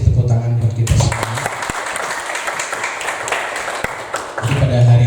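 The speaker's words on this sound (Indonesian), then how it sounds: "Terima kasih, tepuk tangan buat kita semua." Applause from a school audience of teachers and students at a vocational high school gathering breaks out after a spoken line, a dense burst of clapping lasting several seconds, with talking heard before and after it.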